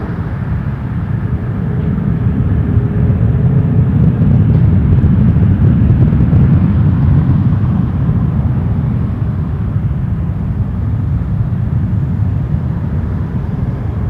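An airplane taking off from runway 23 at Toronto Pearson Airport, a continuous deep engine rumble and roar heard from a distance, holding steady for the whole stretch with no voices.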